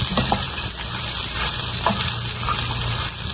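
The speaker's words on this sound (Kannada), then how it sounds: "ನೀಟಾಗಿ ಸ್ವಲ್ಪ ಫ್ರೈ ಆಗಲಿ." Onion and five or six garlic cloves fry in a pan for a radish vegetable sambar, giving a steady, close sizzle with light stirring scrapes and no talking.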